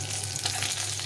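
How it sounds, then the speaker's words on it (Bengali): Cumin seeds, with cinnamon, cardamom and a bay leaf, frying in hot oil in a pan over a low gas flame; a steady, even sizzle with a low hum beneath, continuous and close. "আর কিছুটা পরিমাণ জিরে দিয়ে দিব। জিরেটাকে ভালো করে ভেজে নিতে হবে।"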